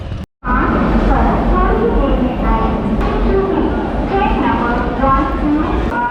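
A train rumbles steadily inside Bhubaneswar railway station in the early morning, a loud continuous rolling drone with faint clatter, with indistinct voices mixed in.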